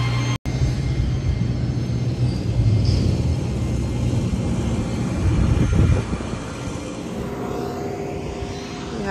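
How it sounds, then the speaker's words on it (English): A steady, low airplane engine drone heard from inside the cabin on a flight to Flores, Guatemala, constant and fairly loud throughout, easing slightly toward the end. "We're gonna hop on this plane."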